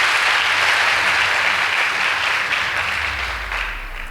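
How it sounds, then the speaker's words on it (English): Audience at a school debate between The Great Seed of Hope School and Maranda High School applauding, a dense, loud, sustained wall of clapping that thins slightly toward the end. "Please give them a round of applause."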